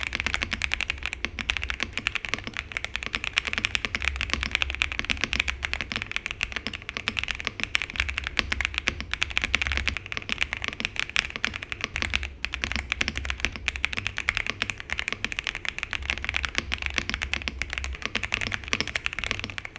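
Steady, fast typing on a MechLands Feker K75 mechanical keyboard in top-mount configuration, a continuous close clatter of keystrokes with occasional heavier thocks from larger keys, and no voices.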